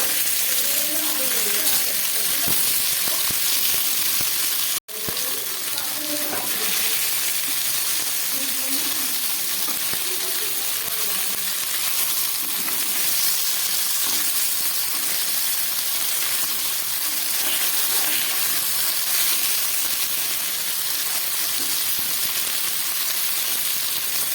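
Raw green banana and potato balls shallow-fry in a pan with ginger-garlic paste, giving a loud, steady, close hiss that runs the whole time while a voice talks over it.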